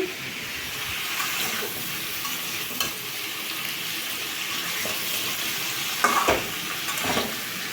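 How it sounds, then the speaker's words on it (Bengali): Vegetables fry in a pan with a continuous hissing sizzle, close and steady, broken by a few sharp scrapes and clatters of stirring, with no talking. "সবজিগুলো সব ভাজা হয়ে গেছে"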